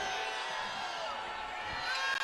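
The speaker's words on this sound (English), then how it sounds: "Crowd here not liking the call." A basketball arena crowd at a Gonzaga women's game reacting against a referee's call, a steady wash of distant murmuring and jeering with a brief dropout near the end.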